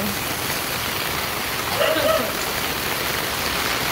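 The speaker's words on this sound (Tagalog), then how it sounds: "Yan, ang ulan. Dito ngayon sa Pilipinas." Steady, heavy rain during the Philippine typhoon season hisses broadly and evenly throughout, a dense wash of falling water with a brief faint tone rising near the middle.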